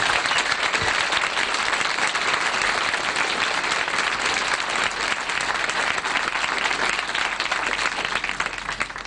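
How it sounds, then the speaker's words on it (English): Sustained, dense applause from a crowd at a military police battalion graduation ceremony, loud and steady throughout with no break. "Let's give a big round of applause for the graduating class."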